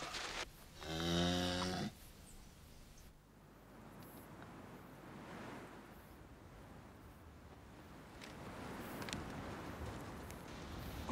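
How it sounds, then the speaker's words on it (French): A cow gives one loud, close moo, followed by a long stretch of windy outdoor rumble beside a country road. "Mes pauvres vaches."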